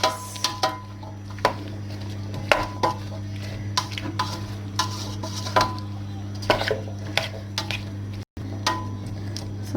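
Pineapple chunks and chicken stirred in a pan, with a spoon clattering and scraping against the metal in quick irregular knocks over a constant low hum.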